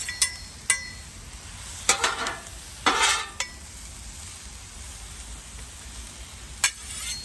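Food sizzles on a Blackstone griddle during a breakfast-for-dinner cook, a soft steady frying hiss broken by a few sharp scraping and clinking spatula strokes against the metal surface.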